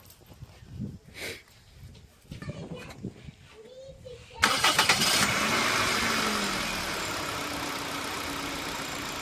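Quiet shuffling and faint voices, then a Toyota Corolla engine with new spark plugs cranks and catches at about four seconds, settling into a steady, fairly loud idle.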